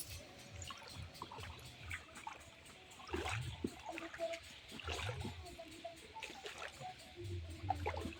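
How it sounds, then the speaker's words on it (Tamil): Water splashing and sloshing as someone wades through a shallow village canal, soft repeated splashes and trickling at moderate distance, low in level with faint background noise throughout. "இந்த காவாயில் இப்படியே நடந்து போனால் அந்த தண்ணி இன்னும் கொஞ்சம் ஃபாஸ்ட்டாக போகும்"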